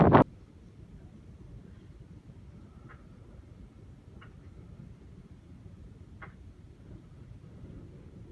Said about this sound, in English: Sun's come out, but still windy